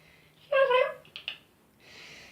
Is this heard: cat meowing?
yes